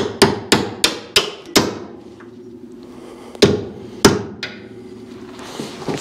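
A hammer strikes sharply and loudly, five quick blows in a row, then a pause before two more separate hits, each ringing briefly, during work on a 1967 Camaro small-block engine.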